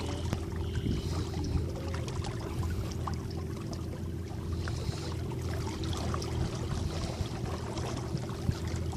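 A boat cruises down the Indian River, its steady motor drone and constant water wash running throughout, fairly close and even in level with no talk.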